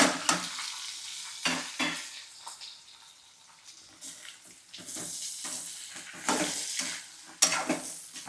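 Okra frying in oil with garlic and curry leaves in a pan, with bursts of crackling sizzle and stirring scrapes between quieter moments.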